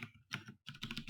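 Fingers type on a computer keyboard, a quick close burst of light plastic key clicks with a brief pause in the middle, quiet and alone.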